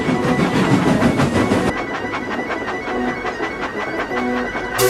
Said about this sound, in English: Mike stopped just as Rex thundered by